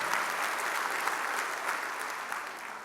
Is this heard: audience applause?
yes